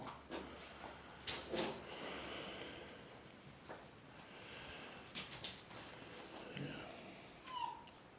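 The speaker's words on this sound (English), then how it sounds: "Apart from the dog moaning, as always." A dog whimpers and snorts in faint, broken bursts, close but quiet, inside a stone dungeon at Berry Pomeroy Castle, with soft footsteps and ambient rustle between the whines.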